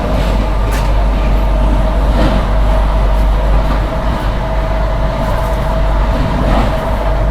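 The Sachkhand Express, running Nanded to Amritsar, arrives on an adjacent Indian railway track. It makes a heavy, continuous rumble, close and loud, with faint periodic wheel clatter throughout.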